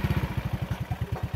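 A motorbike engine idles and putters at low revs while a learner rides slowly over rocky ground, its steady rhythmic chugging pulses close and loud throughout.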